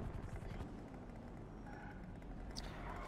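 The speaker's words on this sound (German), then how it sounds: "sag mal deinen Kollegen im Hubschrauber, ich flieg gleich auch mal mit dem Hubschrauber über euer Haus" A helicopter flies in GTA 5, a low rotor and engine hum heard faintly and at a distance, steady throughout with a brief brighter burst near the end and no speech.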